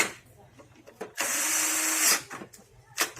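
A power screwdriver drives two screws to tighten a table during home furniture assembly, with one steady whirring burst of about a second, close by, set between short stretches of handling noise and a brief voice.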